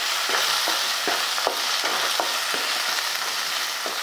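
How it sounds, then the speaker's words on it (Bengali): Raw chickpeas are stirred into spices frying in a pan, with a spatula scraping in repeated rhythmic strokes over a constant close sizzle; no one talks. "এবার সব মশলার সাথে কাঁচা ছোলাটা খুব ভালো করে মিশিয়ে নিচ্ছি।"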